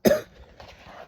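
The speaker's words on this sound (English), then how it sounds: "bit of a cough here" One sharp, loud cough close to the mic, a single harsh burst that fades into quiet breathing.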